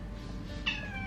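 A cat in a studio workshop gives a single short meow near the end, faint and close, over low background hum.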